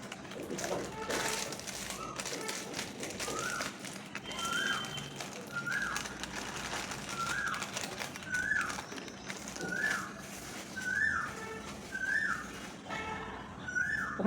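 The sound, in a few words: Asian koel (cuckoo) calling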